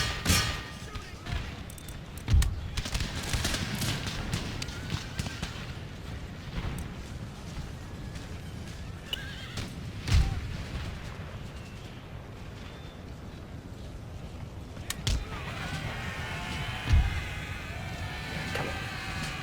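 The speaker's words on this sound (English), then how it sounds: "canister shot, lads" Cannons fire canister shot during a battle in the strategy game Empire Total War, with heavy booms at irregular intervals over a continuous roar of battle noise.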